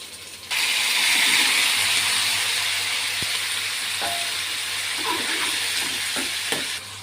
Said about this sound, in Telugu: పచ్చిమిర్చి తర్వాత కరివేపాకు ఫ్రై అయిన తర్వాత టమాటోస్ వేద్దాం.